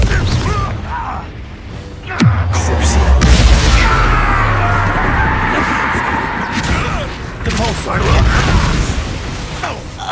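A fiery Confringo spell blast from the Hogwarts Legacy game booms loudly with a deep low thump and rumble, ringing on amid game combat noise and shouted voices.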